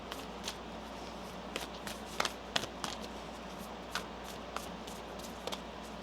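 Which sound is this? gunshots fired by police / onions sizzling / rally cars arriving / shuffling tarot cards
shuffling tarot cards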